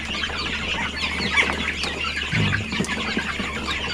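Darag native chickens and roosters on a farm clucking continuously, several birds overlapping at close to moderate distance over steady outdoor background noise.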